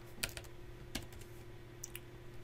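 Faint, sparse keystrokes on a computer keyboard while entering network router configuration commands, a few isolated clicks over a low steady hum with no talking.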